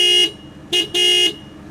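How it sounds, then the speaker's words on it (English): A 1994 Toyota Supra Turbo sounds its thin, Camry-like car horn in three close, loud honks: one short beep, a second brief beep, then a longer blast. "the Supra gets the puny Toyota Camry sounding horn"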